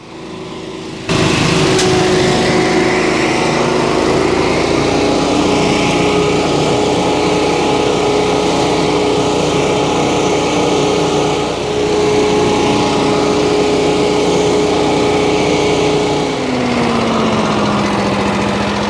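A gas leaf blower runs steadily and loudly for a long stretch, its high engine whine holding constant with a slight drop in pitch near the end, with no talking.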